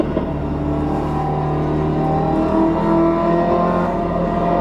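Race car engine in a driving simulator on a wraparound-screen rig, running on cold tyres while the car warms up; a steady, loud, low engine drone with rising and falling revs throughout, no talking.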